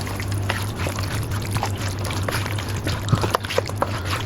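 Raw chicken goes into a white karahi and is stirred, wet sizzling and scraping bursts over a steady cooking hiss, close and fairly busy.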